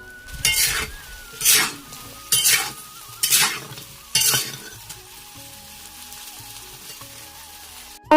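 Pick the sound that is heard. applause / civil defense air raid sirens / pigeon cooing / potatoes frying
potatoes frying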